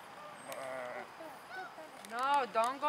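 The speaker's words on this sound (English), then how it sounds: "Look at the sheep." Several sheep bleat in short wavering calls, a few fairly close, with a louder burst of bleats near the end.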